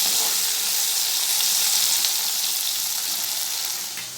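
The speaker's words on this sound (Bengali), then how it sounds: "ঢেঁড়সটা লাল লাল করে ভেজে নিয়েছি, এবার আলুগুলো ছেড়ে দেবো।" Potatoes dropped into hot oil just used to fry okra for an okra jhal set up a loud, steady, close sizzle that hisses on for about four seconds, easing slightly at the end, with no talking.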